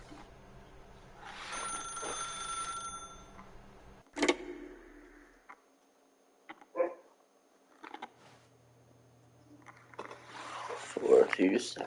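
A telephone rings in The Stanley Parable Ultra Deluxe, with repeated short ring bursts separated by quiet gaps and some talk around them.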